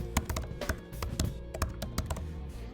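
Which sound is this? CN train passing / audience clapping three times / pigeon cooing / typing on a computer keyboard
typing on a computer keyboard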